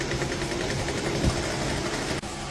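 Sewing machine stitching the round edge of a hijab, a steady mid-pitched motor whir running continuously up close, with a brief dip near the end.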